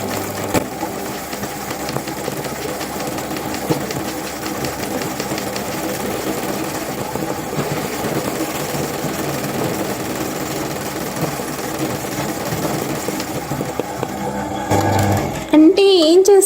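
An embroidery sewing machine stitches a fill, moving back and forth over a design with a continuous rapid mechanical chatter, steady and close, before it stops near the end and someone speaks.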